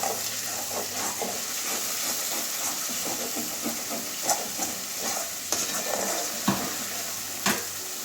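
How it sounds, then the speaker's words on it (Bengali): Masala spice paste for sesame chicken sizzles in a pan as it is sautéed and stirred, giving a steady close hiss with frequent scraping and clinking of the spoon, without any talk. "মশলাটা আমার কষানো হয়ে গেছে লেগেও যাচ্ছে লেগেও গেছে হালকা"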